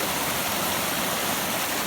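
A flooded stream running toward Gander Lake roars with rushing white water, a dense, steady, broadband torrent close by with no pauses or voices.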